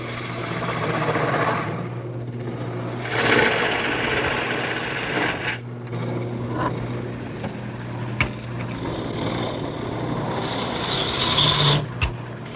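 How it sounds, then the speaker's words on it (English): A wood lathe spins a long bed post blank while a large gouge roughs it out, giving a continuous loud scraping, rasping whir with a steady motor hum and occasional sharp ticks as the tool cuts. "So I'm going to go to my largest gouge and start roughing it out."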